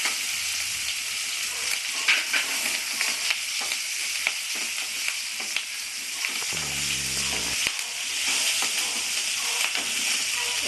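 Onions and chillies frying in a pan alongside pan-fried potato for a Bengali-style fish dish, a loud, continuous sizzling hiss with occasional stirring scrapes close by.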